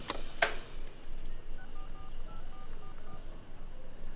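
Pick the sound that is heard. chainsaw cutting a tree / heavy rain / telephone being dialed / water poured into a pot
telephone being dialed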